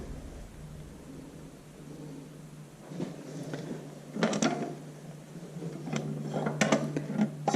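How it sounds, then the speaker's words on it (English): Clutch fork sliding down into place on a Farmall Super MTA tractor with a torque amplifier clutch, heard as a few close metallic scrapes, clicks and clunks of parts shifting, growing busier toward the end over a low steady hum. "So I'm slipping the fork down in here."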